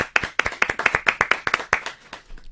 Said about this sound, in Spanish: Un aplauso para nuestras invitadas del día de hoy